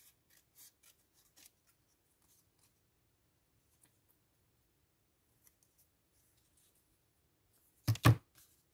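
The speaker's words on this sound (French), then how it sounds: "Et bien, on va faire avec des ciseaux." A quiet pause with faint rustles, then a couple of sharp, close scissor snips cutting paper near the end.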